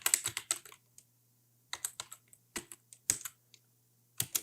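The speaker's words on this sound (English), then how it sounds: "Let's type SSH-I followed by the name of our PEM file." Keys on a computer keyboard are struck as a command is typed, in close, crisp bursts of quick keystrokes separated by short pauses, with a faint steady hum underneath.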